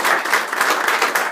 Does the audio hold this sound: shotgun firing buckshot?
no